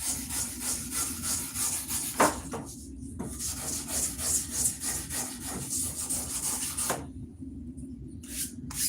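Repeated rasping and rubbing strokes from a file being cleaned of wood shavings during axe work, steady scraping close by with a few brief sharper knocks and short pauses, no voices.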